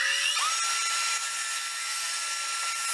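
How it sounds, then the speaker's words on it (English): A disc sander whines loudly and continuously while smoothing a curved radius on a wooden board, its high steady tone shifting slightly as the wood meets the spinning disc. "Now I'm going to clean up this radius here at the disc sander"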